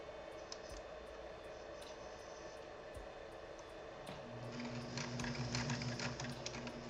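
A sewing machine stitching a running stitch whirs in a steady rapid rhythm, close and fairly quiet, its motor note rising and growing busier in the final seconds.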